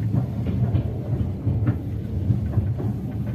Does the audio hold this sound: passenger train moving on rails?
yes